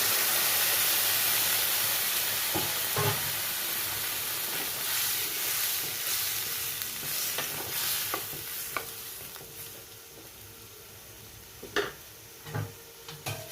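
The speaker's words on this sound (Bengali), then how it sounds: "তো এখানে আমি দিয়ে দিচ্ছি জল পরিমাণ মতো।" Water hits a pan of sautéed drumsticks, pumpkin, potato and eggplant, setting off a loud sizzling hiss that slowly fades, followed by scattered clinks and stirring knocks from a utensil, all close and without speech.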